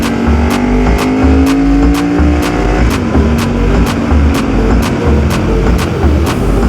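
A motorcycle engine drones steadily while riding on a Blue Ridge mountain road, loud airbox intake roar close to the rider, with a rising whine and regular rhythmic pulsing under a constant rush of wind.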